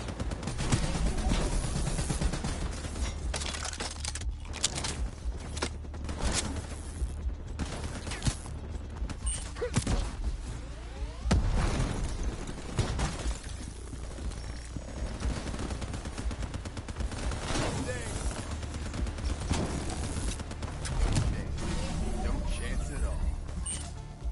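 Rapid gunfire from a video game campaign rattles in dense bursts and sustained automatic fire for the whole stretch, loud and near, mixed with game voices and other effects.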